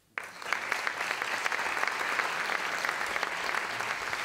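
Steady audience applause fills a bachelor's awards ceremony, starting abruptly and continuing as a dense, even clapping that holds strong throughout.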